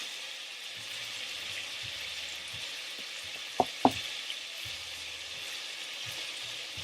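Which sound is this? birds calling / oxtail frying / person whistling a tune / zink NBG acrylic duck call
oxtail frying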